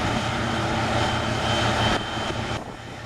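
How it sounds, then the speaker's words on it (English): A 2006 LeTourneau L-1850 wheel loader's engine runs with a loud, steady, broadband roar that eases slightly in two steps toward the end. "Meet the 2006 LeTourneau L 1850, a machine that was once the undisputed king of wheel loaders."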